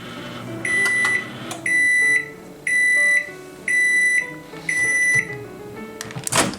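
A kitchen microwave oven sounds five long, shrill beeps in an even rhythm, loud and close, with faint clatter between them and a short rattle at the end.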